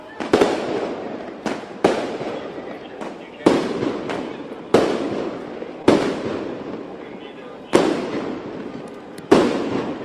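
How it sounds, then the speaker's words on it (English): Police flashbang grenades going off during a mutual-aid response by sheriff and city police at an immigration enforcement protest: about eight sharp, loud bangs at irregular intervals, each ringing out briefly, with crowd noise and voices underneath. "Those may be flashbangs from the PD."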